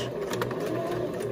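Sewing machine stitching soft toy fabric for a monkey toy, back stitching at a slow pace: a steady, continuous mechanical whir with a faint rhythmic needle patter, close and unbroken throughout.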